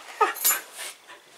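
Soft high whimpers and whines from a dog indoors, a few short yelping notes in quick succession, faint and close.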